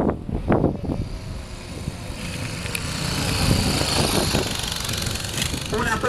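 An engine runs and builds to a rough, steady roar, with a person talking over it at the start.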